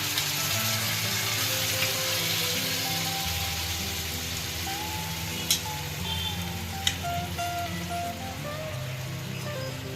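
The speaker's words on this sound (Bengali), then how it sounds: "এরপরে আমি যে মন্ডটা বানিয়েছিলাম জাস্ট পুরোটাই আমি এখানে ঢেলে দিই" Prawns frying in a pan for Bengali prawn malai curry as spice paste is poured over them, giving a steady close sizzle and hiss throughout, with a couple of sharp clinks of utensil on the pan.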